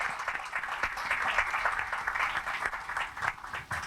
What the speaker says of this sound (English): I think that calls for a big round of applause for all our panelists